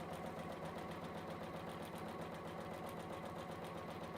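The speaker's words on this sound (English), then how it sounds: "And just top stitch all around." A sewing machine top-stitching fabric with a lengthened stitch runs as a fast, even mechanical whir and chatter, steady and moderately quiet throughout.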